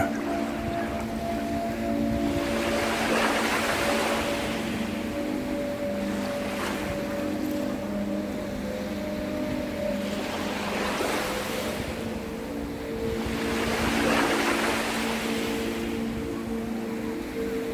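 Ocean waves roll and break in a steady rhythm, each surge swelling into a broad hiss every few seconds over a continuous low wash, with a faint steady hum underneath and no voices.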